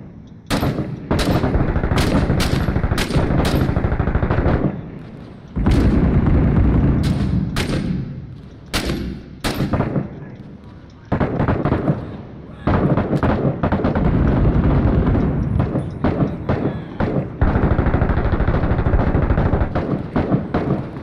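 Intense gunfire in the military shooter Six Days in Fallujah: long roaring automatic bursts and sharp single shots crack almost continuously, close and loud, with brief gaps and some voices buried underneath.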